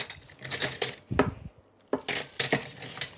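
Metal cutlery clinking and rattling in a kitchen drawer while someone rummages for a fork among spoons, a series of irregular bright clatters and scrapes, close and fairly loud with short pauses between bursts.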